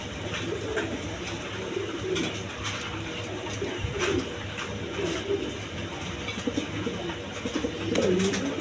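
A pair of Black Beauty pigeons, a male and a female, coo softly in repeated low, rounded calls, fairly faint, with no voices present.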